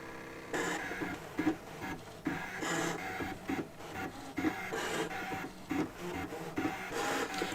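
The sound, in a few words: Brother ScanNCut 325 machine cutting fabric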